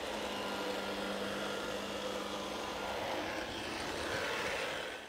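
GTech AirRAM vacuum cleaner picking up baking powder from a hard floor, a steady whirring motor drone with airy hiss that runs continuously and close, easing off at the very end.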